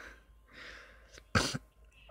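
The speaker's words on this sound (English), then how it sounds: "Sorry if I'm sniffling." A person with a cold sniffles, with a soft airy intake followed by a sharp, loud nasal snort, close to the microphone and with no speech.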